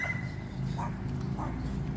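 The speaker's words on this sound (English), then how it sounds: "it's a lot of dogs right there" Several dogs bark on a small-town street in Roseburg, Oregon, giving two or three muffled barks spaced apart over a steady low background rumble.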